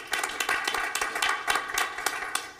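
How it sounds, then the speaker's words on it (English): Sparse clapping at a board business meeting for a student, a modest group of hands giving distinct, uneven claps that stay fairly close and end abruptly, with no speech over it. "give him a round of applause, absolutely"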